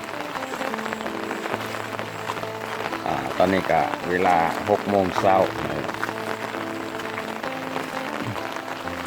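Rain falls steadily on a countryside farm home at six in the morning in the rainy season, a constant wash of drops and patter under someone speaking Thai/Lao.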